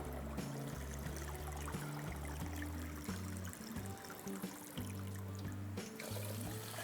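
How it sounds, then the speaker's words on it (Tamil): Water pours into a bowl of rice and lentils, a continuous close trickling and splashing stream that carries on steadily throughout, with no talk over it. "இந்த பவுலில் அதே பவுலில் தண்ணி ஊற்றணும்"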